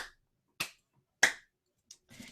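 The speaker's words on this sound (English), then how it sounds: "Let's do these little claps." A few small, sharp hand claps during a yoga class, spaced singly about half a second apart and fairly quiet in a silent room, followed by a faint breathy exhale.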